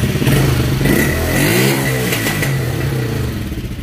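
A motorcycle that had been flooding and refusing to start fires up right after an ignition coil swap. The engine catches and revs up and down, loud and close, then settles toward idle with some mechanical clatter.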